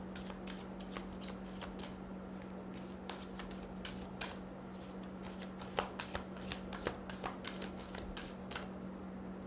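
Tarot cards being shuffled by hand, a steady run of crisp riffling and flicking slaps close up over a low constant hum, with no talking.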